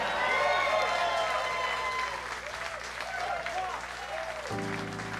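A live jazz and blues club crowd applauds a bass player with sustained, dense clapping, while an amplified voice speaks over the noise and a held instrumental tone rings out near the end.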